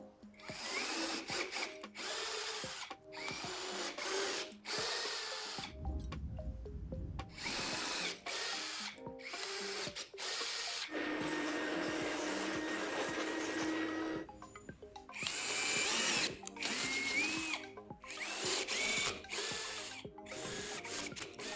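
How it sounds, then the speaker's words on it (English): Power tapping of threads into the ends of aluminum extrusion profiles, a loud whirring drill motor running in repeated bursts with brief pauses and a steadier stretch of grinding in the middle, close and without talk. "we have to tap all the ends to accept bolts"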